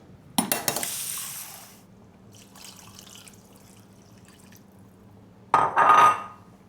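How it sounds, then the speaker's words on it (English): Water poured into a pot of seafood rice on the stove, a short splashing burst followed by faint bubbling, then a second brief pour near the end. "Right about now, I'll add some water to it, guys."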